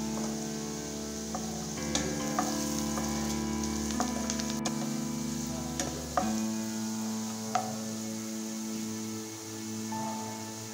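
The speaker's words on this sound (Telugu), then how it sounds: "ఇలా ఆనియన్స్ కాస్త ఫ్రై అయిన తర్వాత చిటికెడు పసుపు వేసుకుందాం." Chopped onions frying in oil in a pan for a Telugu brinjal peanut curry, a soft continuous sizzle with a few light clicks and taps of utensils against the pan.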